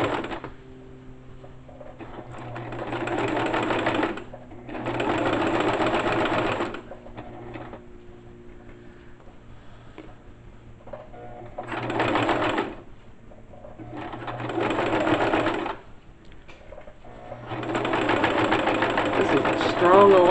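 A sewing machine stitches elastic onto ladies' panties in several bursts of steady mechanical whirring, each a few seconds long, separated by short pauses with quieter background hum.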